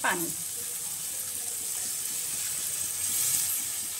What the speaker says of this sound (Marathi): पाणी टाकून याला 10 ते 15 मिनिटांसाठी झाकण लावून ठेवणार।